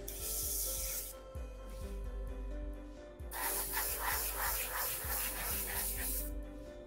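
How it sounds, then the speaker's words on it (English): An airbrush sprays Life Color paint thinned with its own thinners, giving a broad hissing spray in two bursts separated by a quieter pause, over a low background hum. "This is my first time spraying Life Color with their thinners. You can see it sprays beautifully."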